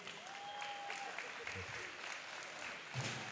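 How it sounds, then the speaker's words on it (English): Spectators at Australia's Strongest Man and Woman competition applaud the under-105 kg strongman class, a faint, steady patter of clapping across a large venue, with a voice briefly over it. "A round of applause, everybody."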